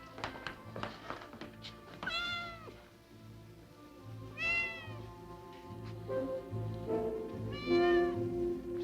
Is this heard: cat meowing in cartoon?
yes